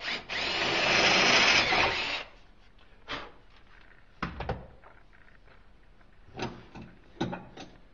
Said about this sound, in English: To get the small copper tube into the great copper tube, we have to drill here a little bit.